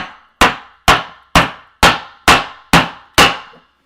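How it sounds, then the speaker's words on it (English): Hammer blows drive a piece of plywood down onto a DIY alcohol stove, seven sharp, loud wooden-metallic knocks at a steady, even rhythm, close by with no talking. "And just hammer it down"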